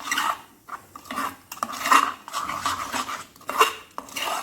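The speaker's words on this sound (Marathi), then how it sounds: "एवढा इनो आपण त्यामध्ये टाकणार आहोत आणि मस्त प्रकारे असं मिक्स करून" A spoon stirs dosa batter mixed with Eno in a bowl, giving repeated scraping and clinking strokes against the bowl that come close and steady, with no talk.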